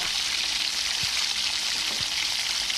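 Minced onions frying in a pan, with a steady, close, even sizzle running through the whole stretch and a couple of faint soft taps underneath.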